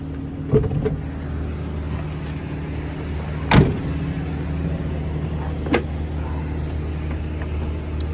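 A 1974 Chevrolet Corvette convertible with a numbers-matching 4-speed has its hood popped: a sharp latch clunk midway, with softer knocks before and after, over a steady low hum.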